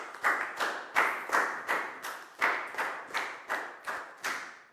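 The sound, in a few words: classroom applause for a student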